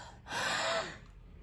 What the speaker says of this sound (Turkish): Ve derin bir nefes aldı.